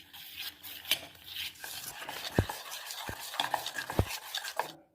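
Thick batter for capsicum fritters being stirred in a bowl, with soft wet scraping and a few sharp utensil knocks against the side, close up and with no talking.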